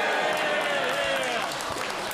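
Clapping in the House of Commons chamber, a dense sustained patter of many hands heard throughout, with a voice faintly beneath it.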